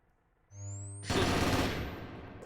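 Gunfire in a competitive first-person shooter match, a sustained dense burst of rapid automatic shots spraying after a rising electronic tone, loud and continuous without talk.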